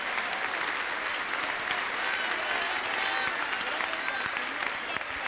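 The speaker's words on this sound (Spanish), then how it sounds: "Aplauso para Cristo." A Pentecostal church congregation in Tumbes, Peru, applauds, a dense, sustained wash of clapping from many hands throughout, with voices mixed faintly into the crowd noise.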